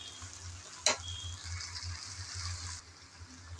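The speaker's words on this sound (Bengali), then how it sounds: "তাই আমি এসে আবারও একটু নেড়ে চেড়ে মিশিয়ে নিলাম।" Taro stolon curry (kochur loti) sizzles steadily in a pan, with a sharp spoon scrape near the start and soft stirring through a low hum, the frying noise cutting off shortly before the end.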